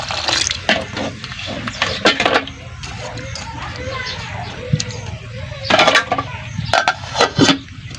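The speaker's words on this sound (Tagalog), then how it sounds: "at talagyan na natin ng tubig na panglaga" Water splashes and pours into a metal cooking pot for boiling bamboo shoots, with clanking of the pot and a voice talking over parts of it.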